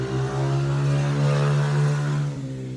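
A child's small motorcycle passing along a neighborhood street, its buzzing engine note rising and holding fairly close before fading slightly at the end.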